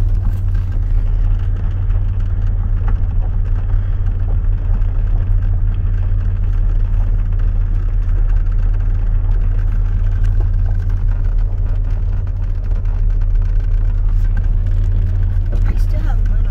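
A Chevrolet S10 pickup idles in gear and creeps forward under light throttle, its steady low engine drone continuous throughout with a faint rumble underneath.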